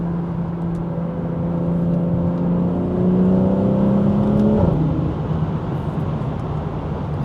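A stage 2 tuned BMW B58 engine droning steadily through its exhaust during a highway cruise, with tonal drone rising slowly, then shifting pitch as the revs change near the end, loud and close.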